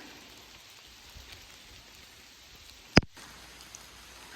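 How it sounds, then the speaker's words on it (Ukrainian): Steady light rain patters softly in a mossy hillside forest, with one sharp knock or drop standing out near the end. "Дощ падає."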